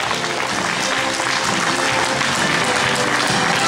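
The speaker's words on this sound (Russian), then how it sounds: "Я думаю, очень уместны будут аплодисменты зала." A hall full of people applauds at an awards ceremony, loud, dense, continuous clapping filling the room without a break.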